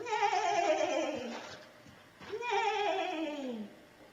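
A young girl imitates a horse neigh with her voice, making two drawn-out, wavering whinny-like calls that fall in pitch, close and fairly loud with a brief gap between them.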